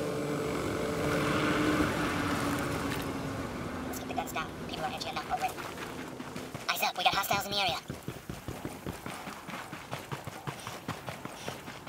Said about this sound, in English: Drone is up.